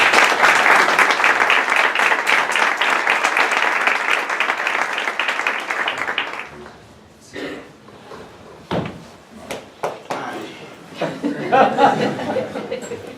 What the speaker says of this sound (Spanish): Así que Bernabé Moya y Fernando Fuello, un aplauso para ellos